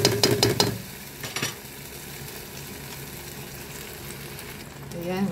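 Tomatoes go into green peas and garbanzos frying in a pan, with a faint sizzle, a few stirring scrapes and clatters at the start, and a low steady frying hiss underneath.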